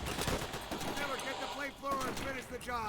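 Gunfire in Call of Duty: World at War during an airfield assault, dense bursts of shots layered with game effects while people talk over the action.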